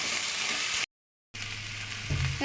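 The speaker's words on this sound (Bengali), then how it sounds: "এবার আমি ভেজে রাখা কচুটা দিয়ে দিচ্ছি কচুটা দিয়ে একটুখানি কষিয়ে নেব ভালো করে" Pieces of fried taro hit hot spiced oil with prawns, giving a soft sizzle that breaks off briefly into silence before the frying resumes with faint scraping from stirring.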